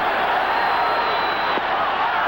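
Crowd at a 1984 St. Louis Cardinals baseball game against the Cubs, a loud, continuous stadium roar that swells steadily, with a whistle-like tone riding over it.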